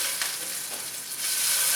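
A smash burger patty sizzles hard on a hot griddle, a loud continuous crackle up close with faint scraping, no voices.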